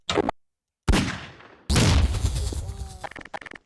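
Bombs detonate in Garry's Mod as a series of sharp, loud game blasts with rumbling tails, separated by short silences, ending in a cluster of rattling bursts.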